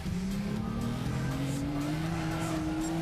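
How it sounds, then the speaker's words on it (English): A Ford RS200 in the Gran Turismo 6 racing game drives with a steady engine drone whose pitch climbs gradually, loud and continuous with light tire noise, no talking. "Hey, it's a Ford RS 200."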